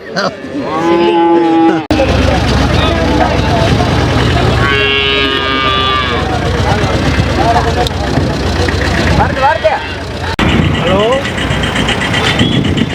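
Repeated high-pitched moos from a two-month-old calf at the Kundadam cattle market over loud outdoor chatter, with an engine running and vehicle noise throughout.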